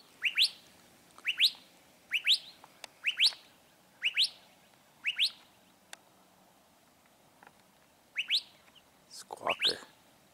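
A bird outdoors along a desert hiking trail gives a series of sharp, repeated squawking calls, about eight evenly spaced bursts, close and clear, ending with a louder clustered call.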